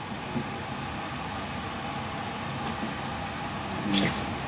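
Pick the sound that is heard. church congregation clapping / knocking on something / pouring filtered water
pouring filtered water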